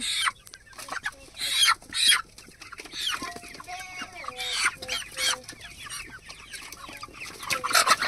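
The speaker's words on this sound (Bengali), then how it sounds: "এই মুরগিগুলো কিন্তু সব বাড়িতে খাওয়ার জন্য পোষা হয়েছে।" Home-raised poultry kept for eating cluck and squawk nearby, with several hens calling in overlapping bursts and shrill, uneven cries rising and falling throughout.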